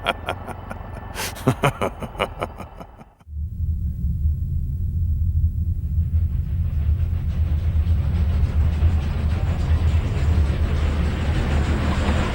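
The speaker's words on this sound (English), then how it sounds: "Prison train arriving at Alpha 32 Space Junction." A prison train in an animated space setting pulls into a space junction: after a brief burst of music, a steady low mechanical rumble builds and holds, loud and continuous, with no talking.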